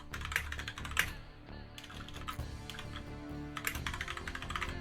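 Fingers type a folder name on a computer keyboard, producing quick close clicks in uneven bursts with short pauses between them, with nothing else heard.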